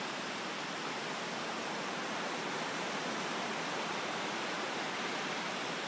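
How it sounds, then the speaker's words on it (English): Steady, broad roar of ocean waves at La Jolla beach, a constant wash of surf with no distinct breaks, fairly quiet and with no voices. "I don't know if you can see the waves behind me."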